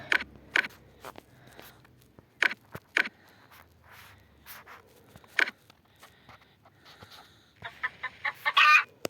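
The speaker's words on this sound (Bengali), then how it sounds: "ভূত চলে এসছে একটা, যে মুরগির মতো আওয়াজ করে।" A night-time ghost in the video game Minecraft clucking like a chicken: scattered short, sharp clucks spaced apart, ending in a louder flurry of squawks.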